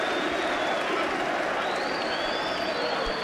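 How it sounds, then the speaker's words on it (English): A packed boxing arena crowd, the Trent FM Arena, gives a sustained standing ovation after a fight: dense, steady applause with cheering, continuous and loud throughout, a commentator's voice faintly under it. "all around the Trent FM arena, every single person is on their feet applauding"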